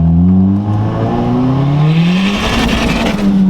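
A budget Honda Civic EG revving hard while shooting exhaust flames: loud, close engine with a rising whine as revs climb, then a sustained high-rpm roar.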